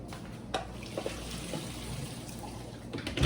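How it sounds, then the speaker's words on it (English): Cold water runs steadily from a kitchen tap over red herring being rinsed, a soft continuous trickle and splash with a low background hum and no talking. "and run the cold water"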